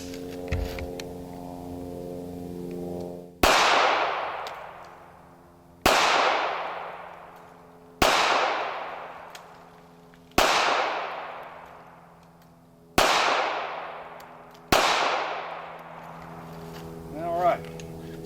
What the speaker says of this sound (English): I'm gonna shoot one mag in his chest, one mag in his head, and just see what the group's like